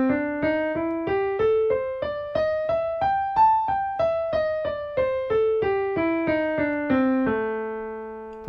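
Solo piano plays a steady run of eighth-note triplets on the minor blues scale, climbing and then descending note by note before settling on a final held tone, clear and unaccompanied.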